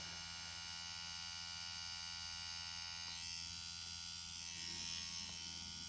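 A tattoo machine running at a steady, constant electric buzz, fairly faint and close, with no speech over it.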